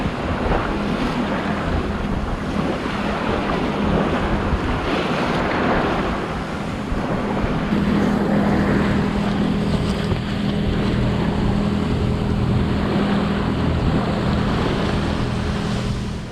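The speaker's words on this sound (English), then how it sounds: "I've got the motor just ticking over at about 1000 RPM" A sailboat's motor ticks over at about 1000 RPM, a steady low drone buried under constant wind buffeting and water wash throughout, with no speech.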